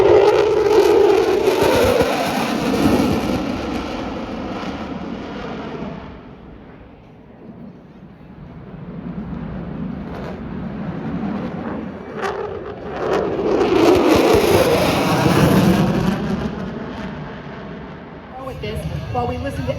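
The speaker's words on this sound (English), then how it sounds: "F-15s are pretty loud" Oregon Air National Guard F-15 Eagle fighter jets roar past at an airshow in McMinnville, a loud broadband jet rumble swelling, easing off mid-way, then building again to a second heavy pass with crowd noise beneath.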